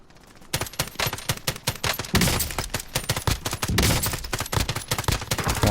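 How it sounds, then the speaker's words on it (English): Bursts of gunfire crackle through a battle royale-style duos shooter match, many rapid irregular shots and short volleys, fairly loud and continuous, with no talk over them. "You can hear the gunfire out to the left."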